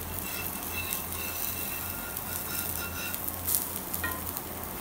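Foxtail millet dosa batter sizzles steadily in oil on a hot tawa, a continuous close crackling hiss with a brief louder flare near the end, no voices.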